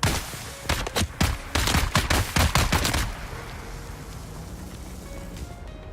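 Rapid volleys of video game gunfire, a dense string of loud sharp shots for about three seconds, then they stop and a quieter ambient hum continues.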